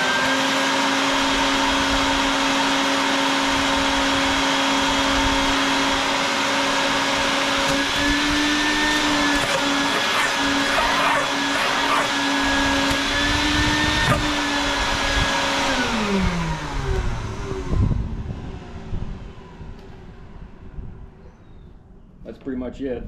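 Motor on a DIY Home Depot bucket machine runs steadily with a loud, constant whine, the pitch dipping slightly partway through before the motor winds down near the end, followed by quieter rattles and handling noise.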